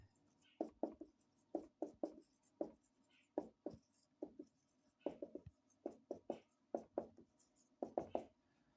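Pen or marker scratching out handwriting in quick bursts of strokes with short pauses, close and fairly quiet, no talking, during a lesson on English present indefinite tense.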